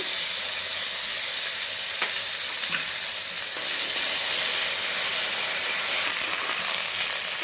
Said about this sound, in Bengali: এবার আমি দিচ্ছি আদা জিরে বাটা